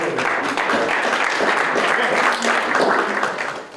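Audience clapping at an afternoon presentation on a livable city project, a dense, steady patter of many hands filling the room throughout without a pause.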